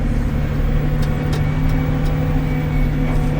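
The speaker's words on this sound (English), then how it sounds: "it'll be Anderson, me, and then you driving these dump trucks." A haul dump truck engine idles and runs steadily at a sand pit, a loud continuous mid-pitched drone with a few faint clicks on top.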